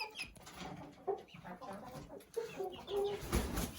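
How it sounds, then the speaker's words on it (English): Chickens cluck softly in short bursts, scattered over low outdoor background noise, with a few brief squawks near the end. "These new chickens are starting to understand that they're able to come out and forage around."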